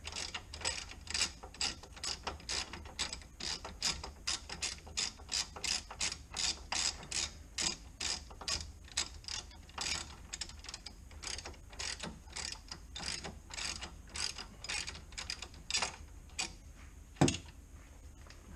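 A hand ratchet backs out sway bar end link nuts on a car, a long series of quick clicking bursts in a steady rhythm, close and moderately quiet, ending with a sharper clank.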